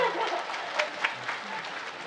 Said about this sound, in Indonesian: Ayo boleh berikan tepuk tangan dulu